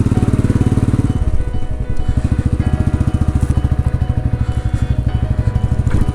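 A Royal Enfield motorcycle rides near Versailles, its single-cylinder engine thumping in a steady, rapid low pulse that stays loud and close throughout, with no talk over it.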